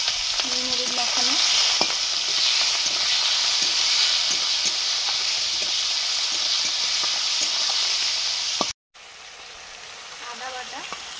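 Prawns coated in salt and turmeric fry in a pan with five-spice tempering, a loud continuous sizzle with light stirring scrapes that cuts out briefly, then resumes more quietly.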